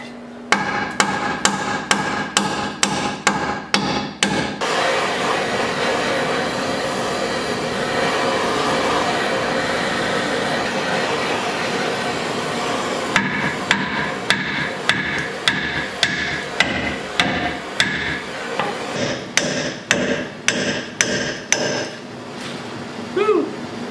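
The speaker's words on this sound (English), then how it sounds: "So I'm going to try to pound this out with a hammer quick." A hammer pounds on a rusted, stuck trailer hitch on an old Ford Ranger, loud sharp metallic blows in quick bursts at the start, then a long stretch of grinding clatter, then more rapid regular strikes.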